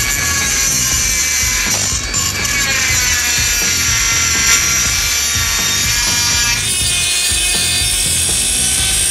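A cutoff wheel grinds continuously into a steel bearing spacer on a 2002 Jeep Grand Cherokee WJ 4.7, a loud, high whining screech with steady rasping and a brief pitch shift, heard up close without talk.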